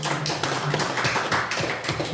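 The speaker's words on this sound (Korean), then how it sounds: "잠깐 우리 환영의 박수" A church congregation gives a short burst of welcoming applause, many hands clapping together in a brief, dense patter with a faint voice underneath.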